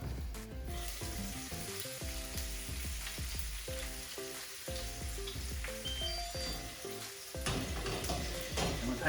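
Salmon searing in butter in a hot pan, sizzling and crackling with a steady frying hiss and occasional clinks and scrapes of a utensil against the pan.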